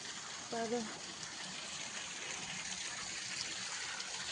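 Steady rushing of water flowing along a drain channel, a continuous broadband wash at moderate level, with a brief voice near the start.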